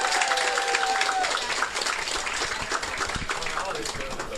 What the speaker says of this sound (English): So let's give John a loud round of applause.